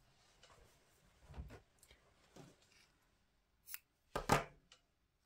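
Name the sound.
scissors cutting crochet yarn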